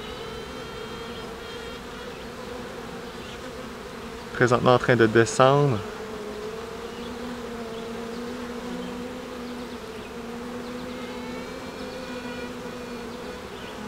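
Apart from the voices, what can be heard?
honeybee colony with virgin queen piping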